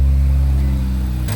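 A Ford Mustang Dark Horse with fuel dripping out starts up. A deep, loud engine rumble holds steady for a moment, then shifts in tone at the very end, with no voices.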